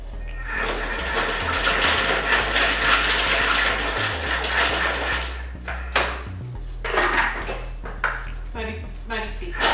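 A Thermomix blitzes soup ingredients in a loud, rough burst for about five seconds, followed by scattered clatters and knocks.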